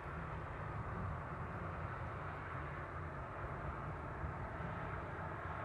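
A DJI Air 2S drone climbs into the sky with a steady, even whirring buzz of its motors that holds constant and unbroken throughout.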